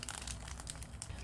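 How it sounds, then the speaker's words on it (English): A regular plastic bag being crinkled by hand during shaker-card making, a close, continuous crackly rustle with quick irregular crunches and no talking. "this is just a regular plastic bag"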